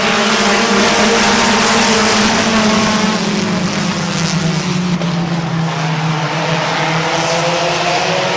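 Race cars running three wide for the lead through turn 3 at Midvale Speedway, a loud sustained engine roar with a droning pitch that slowly drops as the pack passes, filling the whole clip without talk.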